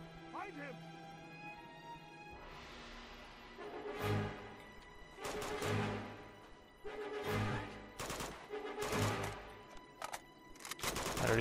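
Enemy gunfire in Uncharted 2: Among Thieves comes as several loud bursts of shots spaced a second or two apart, with a person talking over and between them.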